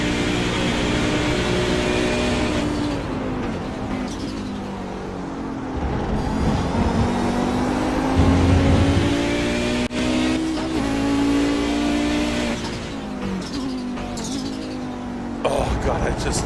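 A four-wheel-drive GTO race car in iRacing at Road America roars through gear changes, its engine note rising and dropping repeatedly over the whole stretch while a commentator talks over it.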